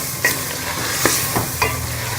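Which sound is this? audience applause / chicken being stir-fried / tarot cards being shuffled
chicken being stir-fried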